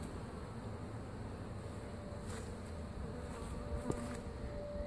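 Honeybees removed from a birdhouse in a Lakeland, Florida cut-out hum in a steady, faint buzzing drone, with occasional nearer passes and light knocks, no voices.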